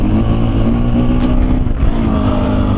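A Husqvarna FE450 four-stroke motorcycle engine revs loudly and close, a dense, throaty rumble with rising and falling throttle and engine braking filling the gaps.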